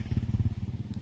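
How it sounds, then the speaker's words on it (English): A motorcycle passes close by outdoors, its engine giving a loud, rapid, throbbing putter that pulses steadily before easing slightly as it moves on, with no talk over it. "let the motorcycle go by first."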